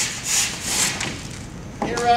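A rasp scrapes along the end of a drywall board in a few close, breathy strokes, rough and fairly loud, followed by a brief higher scrape at the end.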